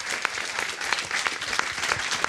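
Audience applause at an opening talk on web series, a dense steady wash of many hands clapping throughout, loud and close, with no voices over it.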